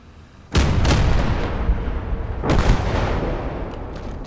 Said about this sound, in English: We've got our artillery in play.